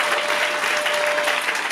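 A congregation applauds during a spiritual revival church service, a dense, steady wash of clapping that fills the short moment at an even, fairly loud level with a faint sustained tone beneath.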